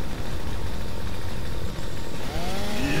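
A roaring chainsaw in the video game Gears of War 2, loud and continuous with a revving, engine-like snarl that rises in pitch toward the end.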